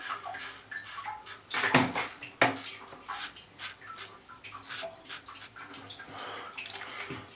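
A razor scrapes bristles off a face in short rasping strokes, crisp bursts with brief pauses between, close and fairly quiet in a bathroom.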